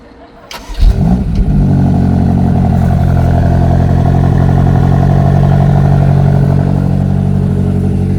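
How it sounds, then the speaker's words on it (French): BMW X5 M 2026 SUV engine starting in sport mode: a sharp crank catches and flares into a loud rev, then settles into a steady, deep, rumbling idle that holds strongly to the end, with no talk over it. "Tu sais mettre le mode sport quand tu vas démarrer justement."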